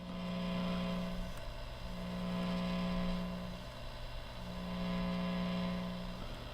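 Low electrical hum with a soft hiss that swells and fades in slow waves, a moderate, steady idle noise from a Z-Lux guitar amplifier with reverb on, master and volume at noon, no playing.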